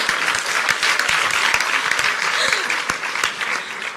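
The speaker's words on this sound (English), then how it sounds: "the crowd goes absolutely bonkers" A large crowd applauds and cheers loudly and steadily at a live speaking event, dense clapping filling the whole stretch without a break.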